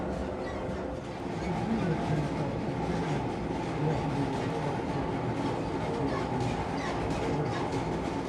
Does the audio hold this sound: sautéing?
no